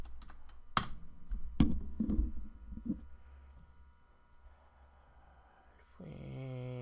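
A computer keyboard is typed on in scattered bursts of clicks and taps. A quieter stretch follows, and near the end a steady tonal hum comes in.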